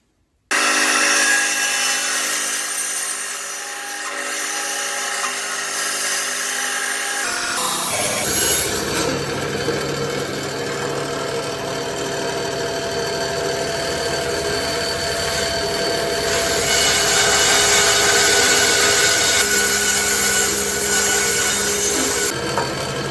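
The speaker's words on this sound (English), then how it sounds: "we're going to run it through the bandsaw just to get it all nicely and squared off" A bandsaw rips through a glued-up wooden sword blank with a loud, continuous rasping whine that starts abruptly and holds steady, the cut roughening and shifting in pitch partway through, with no voices.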